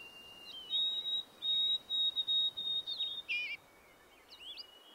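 Birds sing nearby on a warm day in wolf country, a series of clear high whistled phrases and trills in quick bursts, fairly close and alone over faint background hiss.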